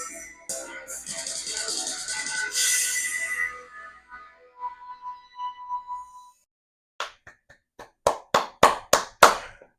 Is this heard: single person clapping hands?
yes